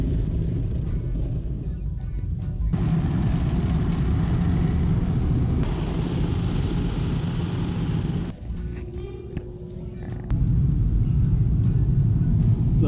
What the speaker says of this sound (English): A big blower to dry the car off.